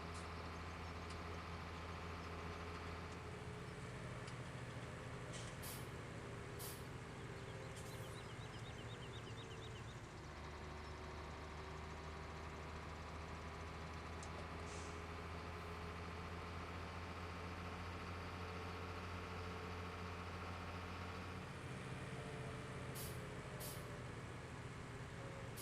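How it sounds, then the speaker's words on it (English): A Fendt farm truck's diesel engine pulling uphill while loaded with cows, a steady low drone at a fairly quiet level, with tone shifts at gear changes and occasional brief high hisses, no voices. "this truck's got a bit of poke to it. It's certainly a lot faster up these hills than our tractor was"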